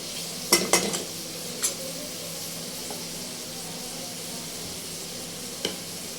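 Spices being dry-roasted in a pan for vegetable cutlets: a soft continuous sizzle with a few sharp clinks of a spoon against the pan early on and once near the end, fairly quiet throughout.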